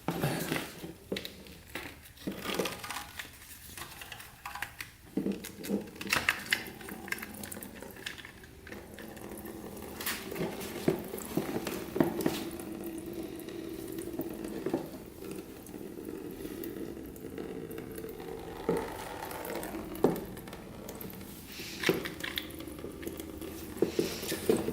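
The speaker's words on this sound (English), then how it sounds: "let's drain this coolant out of here. Should shoot right out." Coolant drains from a Honda CR80 dirt bike in a steady wet splashing and trickling stream, with occasional clicks and handling knocks close by.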